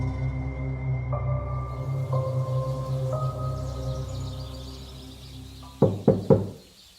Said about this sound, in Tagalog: nagising ako sa marahang katok sa labas ng aking silid